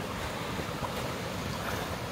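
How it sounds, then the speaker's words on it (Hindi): Rushing water from a waterfall near Swaik lake in Kallar Kahar, Pakistan, heard as a continuous broad roar from close by, mixed with wind buffeting the microphone and no talking. "हम अब इस आबशार के बहुत करीब हैं और हमें वाटरफॉल की आवाज आ रही है"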